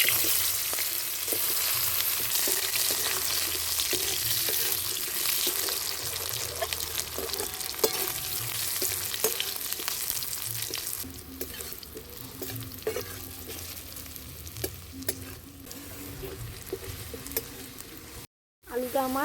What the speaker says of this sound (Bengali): এবার আমি আলুটাকে কষে নিচ্ছি এই তেলের উপর।